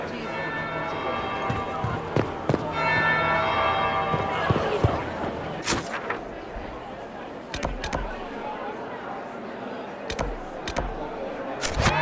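A tolling bell in the fantasy video game Dragon Age Inquisition rings amid game ambience, with sharp metallic strikes and clanks punctuating a steady background bed, loud and close.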